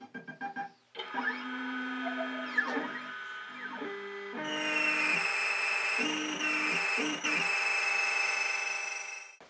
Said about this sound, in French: on va tailler une clé sur la Futura